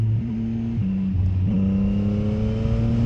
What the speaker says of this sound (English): if I go to fourth gear, let's test out.